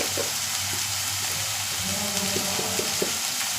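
Sliced onions sizzle and fry in a hot pan as salt is sprinkled in, a steady soft crackle with a few light stirring clicks, moderately quiet and close.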